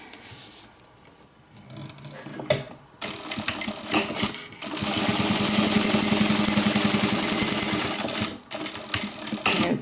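Sewing machine top stitching along the folded edge of a handmade airliner cabin bag, a few short bursts of stitching then a steady, sustained run of rapid needle clatter, close and fairly loud.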